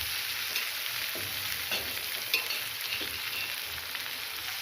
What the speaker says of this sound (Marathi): लसूण आणि कांदा आणि आलं हे सर्व एकत्र परतून घेतल्यानंतर आता लाल टमाटर त्याच्यामध्ये घालूया